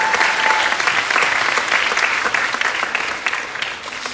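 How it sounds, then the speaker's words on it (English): An audience at a youth-led candidate forum applauds the candidates, a dense, steady round of clapping from many hands that runs loud throughout and tapers slightly near the end. "So let's give them a round of applause."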